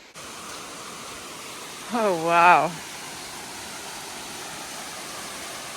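A waterfall along the Appalachian Trail gives a steady, broad rushing roar that fills the whole clip at an even level, with one voice briefly exclaiming in the middle.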